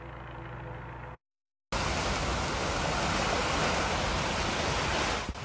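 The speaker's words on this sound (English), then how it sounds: "Torrential rain pours into the ripped open roof at a seafood supply warehouse in Montebello" Torrential rain pours steadily through the ripped-open roof of a tornado-damaged seafood supply warehouse in Montebello, a loud, dense, unbroken rush of falling water, briefly cut to silence near the start.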